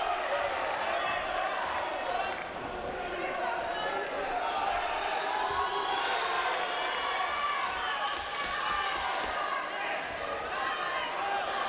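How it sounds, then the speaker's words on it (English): Noisy arena crowd at a boxing bout, a dense continuous roar of shouting and chanting with no clear rhythm, fairly distant and steady, mixed with a commentator's voice speaking over it. "Crowd shouting, Scotland, Scotland, Scotland."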